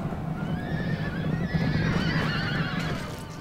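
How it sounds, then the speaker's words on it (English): Heavy cavalry horses charging in the Rome Total War strategy game whinny and neigh in several overlapping calls over a rumbling battle din, with no talk. "this line of heavy horse is now going to charge through the trees and into the exposed enemy infantry flank"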